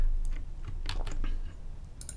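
Quick, uneven keystrokes clatter on a nearby computer keyboard, a short burst of a dozen or so sharp clicks over a low background hum, with no voices.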